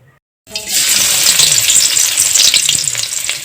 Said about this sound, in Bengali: তেলটা ভালোভাবে গরম করে নিয়ে আমি তেলের মধ্যে দিয়ে দেব পেঁয়াজ কুচি।